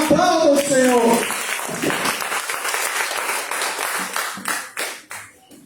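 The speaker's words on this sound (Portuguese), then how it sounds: "Aplauda o Senhor" A church congregation applauds loudly during a service, dense steady clapping that fades out near the end, with a voice speaking over the start.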